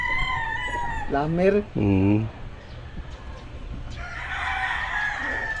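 A rooster crows twice in close succession at a small farm with a mini barn, loud and near, followed by softer background clucking and someone speaking.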